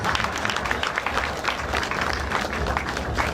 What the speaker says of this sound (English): So please try and give me a bit of a round of applause.